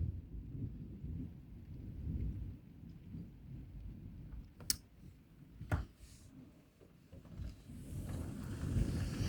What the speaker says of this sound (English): As you can see, it's starting to rain.